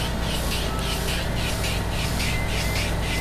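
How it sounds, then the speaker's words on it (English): An airbrush sprays neon blue Createch paint at about 60 psi, giving a steady close-up hiss with gentle rhythmic pulses as the spray passes over the design, with no voices. "I'm spraying at about 60 pounds of pressure."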